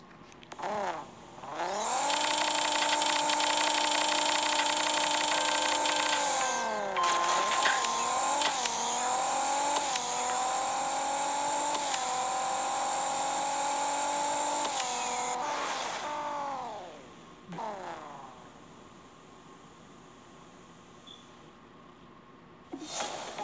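Honda S2000 Race Edition race car engine in the video game Racing Rivals, revving loudly and alone, climbing through a held high-rpm whine with shifts and dips, then dropping away to quiet near the end.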